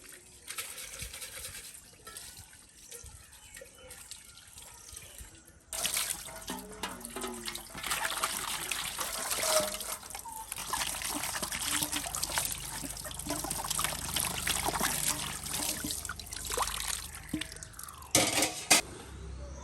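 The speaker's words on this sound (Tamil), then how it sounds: "பாத்திரமெல்லாம் கழுவி முடிஞ்சது" Dishes being washed under running water, with a quiet start, then steady splashing and trickling from a tap and occasional clinks of pots and utensils, close by and without talk.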